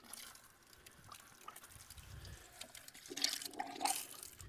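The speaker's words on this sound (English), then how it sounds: "you watch that chicken is just spinning in there because the water is circling" Water swirls and churns in a small scalding bath used while processing meat roosters on a farm, a steady, moderately loud rushing with bubbly surges toward the end and no talk.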